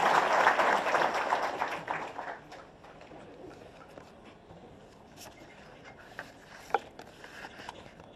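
An audience at a political gathering applauds loudly at first, the clapping fading over a few seconds to scattered claps and soft rustling.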